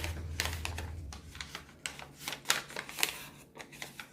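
Paper folded and creased by hand for an origami seed-starting pot, a run of close, crisp crinkles and sharp creasing taps in an irregular rhythm with no talking.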